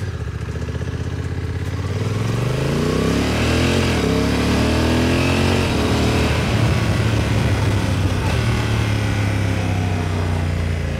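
Honda NT 1100 motorcycle on the move, a loud, steady engine drone with rising and falling pitch as it accelerates, heavy wind noise over it throughout.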